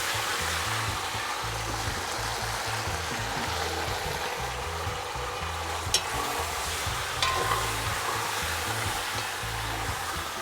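Steady sizzling and crackling of dumplings frying in hot oil, continuous and close, with a couple of faint clinks partway through.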